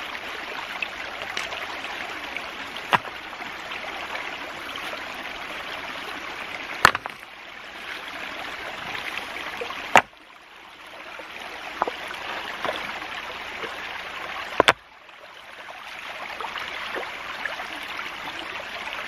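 Stream water flowing steadily over rocks after a small rock dam is pulled aside to wash out silt, a constant close rushing wash broken by a few sharp clicks and knocks.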